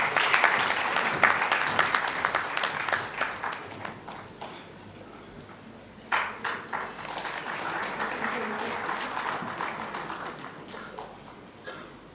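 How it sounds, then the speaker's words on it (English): Sustained applause from a convention audience at a business knowledge session, a dense steady clatter of many hands that swells, dips briefly midway, then resumes and slowly tapers, with a voice speaking faintly underneath. "May I request all of you for a round of applause"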